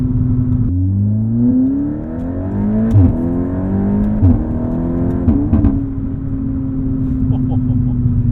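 A Mk7.5 VW Golf R on a race track, its engine revving and climbing in pitch before sharp double upshifts drop the revs, loud and close, with people talking over it.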